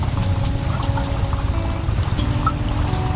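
Water pouring from a gallon container, a loud continuous splashing trickle with drip-like spatters that runs unbroken from start to finish and close to the listener, with no voices over it.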